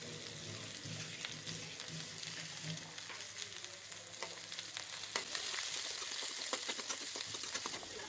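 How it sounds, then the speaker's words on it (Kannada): Ginger, garlic and long-sliced onion frying in hot oil for aloo masala fried rice, a steady close sizzle with occasional stirring clicks, growing slightly louder and brighter toward the end. "ಅದನ್ನು ಫ್ರೈ ಮಾಡ್ಕೊಳ್ತಾ ಇದ್ದಾರೆ"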